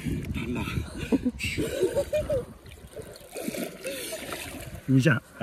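People splashing in a resort swimming pool in Bandarban, with choppy water sounds close by and voices talking and calling over them throughout.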